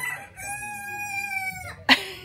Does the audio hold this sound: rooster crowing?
yes